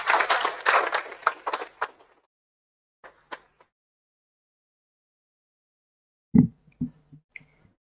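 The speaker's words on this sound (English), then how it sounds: "Big round of applause to everyone" Audience clapping at the DBCE DreamBig 2026 industry-meets-academia event: a brisk burst of claps that thins out within two seconds, followed by near silence and a few scattered, isolated claps and knocks.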